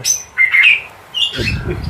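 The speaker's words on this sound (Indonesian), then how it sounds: "Terus nih udah burung kecil. Kolibri ninja mas ya." A small kolibri ninja songbird sings close by in high, sharp chirping phrases in the petulak style. A low rumbling noise joins the song near the end.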